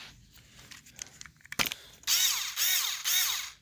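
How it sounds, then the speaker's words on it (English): An electric screwdriver slowly turns a winch drum to spool cable, giving three sustained whirring bursts with pitch sweeps after some brief clatter and handling knocks. "Electric screwdriver."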